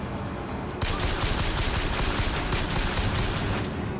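Sustained gunfire in the video game Bioshock Infinite erupts after a short lull and continues as dense, rapid, steady shots at moderate loudness, with no talking.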